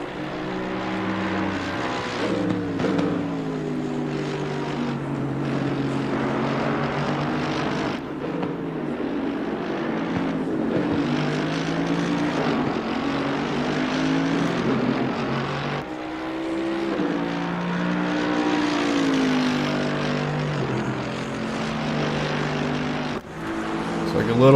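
Race cars in a racing video game roar past on the front straight, engine tones rising and falling in long overlapping passes, loud and continuous, with a commentator talking over them.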